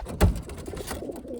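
A single pigeon gives a short, low coo nearby, a soft throaty burst followed by faint rustling, with no voices.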